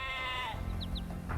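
Sheep bleat in Age of Empires 2, with short game bleats over a steady low hum and ambient game sound, close and moderately loud.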